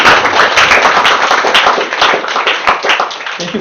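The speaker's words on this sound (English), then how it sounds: "Let's generate some applause." An audience at a lecture applauds, a dense, close burst of many hands clapping that tapers slightly near the end.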